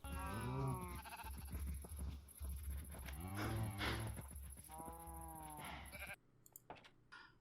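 Several sheep in Minecraft bleat in quick succession, loud and close, their wavering calls overlapping before the sound cuts out abruptly near the end.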